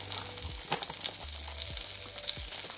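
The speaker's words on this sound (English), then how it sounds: "I am putting just a tiny amount of butter in the bottom of my pan" A small amount of butter sizzling in a skillet over medium heat, making a continuous bright hiss with some faint clinks and low hums beneath it.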